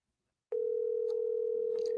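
A voicemail recording tone starts abruptly after a half-second of silence and holds as one steady, clear, unbroken pitch until the end.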